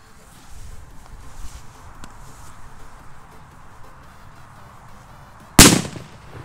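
A 2-gram firecracker, a petarda, is lit outdoors: a few seconds of quiet hiss and small movements, then one sharp, loud bang that decays quickly.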